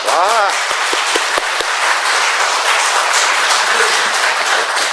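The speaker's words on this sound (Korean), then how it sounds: "여러분 박수 좀 한번 쳐주세요" A church congregation at an Easter Sunday service claps steadily and loudly for several seconds, a dense, sustained round of applause filling the hall.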